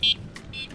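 Two short electronic horn beeps from a Laotie ES10P electric scooter, close by, the first brief and sharp, the second a little longer, with quiet background noise between.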